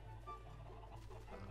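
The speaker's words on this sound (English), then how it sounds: "I was about to punch that chicken." A chicken in the Minecraft video game clucks softly, a brief, steady burst of low, faint fowl clucking with no one speaking over it.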